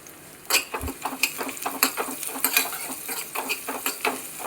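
Finely chopped shallot being stirred in hot coconut oil, with quick, uneven clinks and scrapes of a utensil over a light, crackly sizzle.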